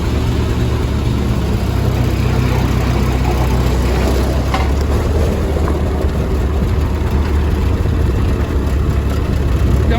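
Ford 8N farm tractor engine running steadily after being started on a recharged battery, a loud, continuous low rumble with no pauses.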